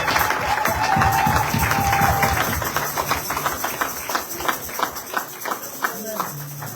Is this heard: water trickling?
no